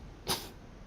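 A person uses their voice to imitate a snorting sneeze, giving one short, sharp nasal burst over faint background hiss.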